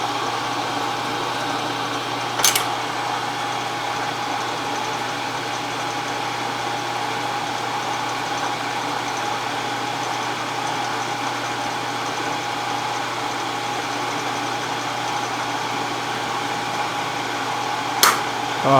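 A Wells Model 40 index milling machine runs with a steady, loud motor and belt drone that holds constant throughout. Two brief sharp clicks break the drone, one early and one near the end.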